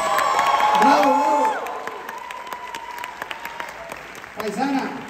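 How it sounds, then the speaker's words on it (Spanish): Audience applause and cheering at a stage musical performance, loud sustained clapping with whoops, while an announcer speaks over the crowd. "¡Bravo! ¡Aplauso!"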